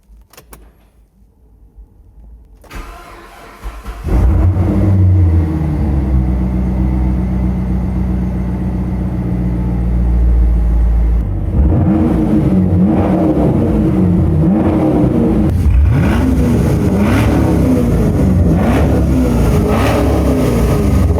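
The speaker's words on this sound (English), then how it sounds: "seeing if this engine still works" A Camaro SS V8 engine cranks and catches, then idles with a deep rumble before several sharp revs climb and fall, loud and close.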